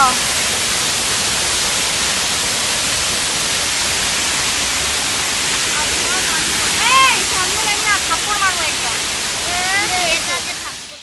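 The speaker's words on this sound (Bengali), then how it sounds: "দেখুন ঝর্ণার আওয়াজটা কানে আসছে" Loud, continuous roar of a waterfall on Ajodhya Hill, Purulia, throughout, with people talking over it in the later seconds.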